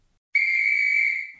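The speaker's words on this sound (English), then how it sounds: "With a peep of the referee's whistle" A referee's whistle in the Wii Sports Table Tennis video game gives one clean, steady, high-pitched peep lasting about a second, loud and close, alone in silence.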